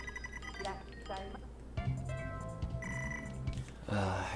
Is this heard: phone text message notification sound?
yes